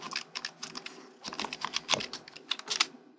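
Rapid, uneven keystrokes on a computer keyboard as a web search is typed in, a close, crisp run of clicks in two bursts with a short pause between them.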